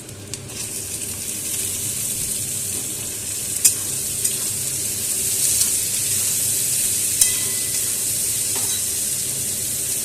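Chopped carrots, beans and capsicum stir-fried with golden-brown onions in a pan for fried rice, giving a steady close sizzle with occasional scraping clinks of a spatula, no talking.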